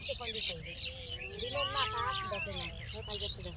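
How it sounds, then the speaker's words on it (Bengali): A flock of many birds chirps and twitters in overlapping bursts, moderately close, with a busier cluster of calls in the middle, while people talk over the chorus. "কত পাখি।"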